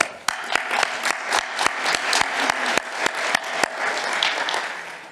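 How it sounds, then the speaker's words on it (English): A conference audience applauds after a keynote on addiction research, loud sustained clapping from many hands with several crisp, close claps punctuating the dense patter. "I want to give a special round of applause to Dr. Jen Brash for organizing the conferen"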